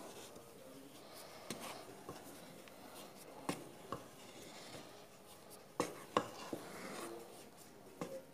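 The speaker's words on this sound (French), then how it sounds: "il faudra la mélanger tout doucement. Avec une cuillère en bois." Batter being folded gently by hand with a wooden spoon as flour is mixed in, giving a soft, faint scraping and rubbing with a few light knocks against the bowl.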